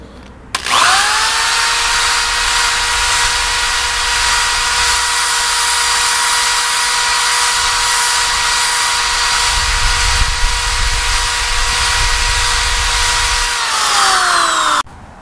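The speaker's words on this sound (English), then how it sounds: "I'm going to give them a quick hit with the wire brush" A power wire brush scours the heads of an axe and a maul, a loud, steady whine running unbroken for about thirteen seconds before winding down at the end, with no talking.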